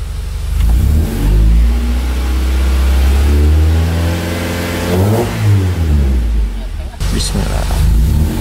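A Honda Accord CB7 with a swapped engine revs up and down repeatedly, the close engine note rising and falling in pitch, with voices talking over it.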